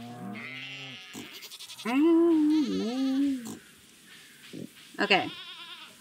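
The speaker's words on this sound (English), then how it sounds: "Hello, hello, hello, all the chickens and goats and cows." Goats and sheep bleat on a farm in the Stardew Valley video game, several wavering calls rising and falling in turn with short pauses, while a person speaks briefly between them.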